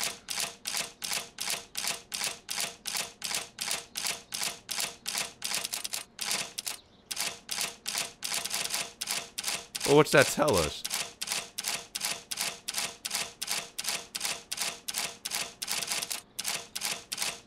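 Safe combination dial clicking in the Sherlock Holmes: Crimes and Punishments video game, a fast regular train of crisp ticks with a short pause, while a person talks over part of it.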